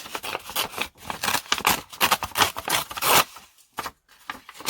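Paper torn by hand for a craft project, a series of close, crisp ripping strokes with short pauses between each tear.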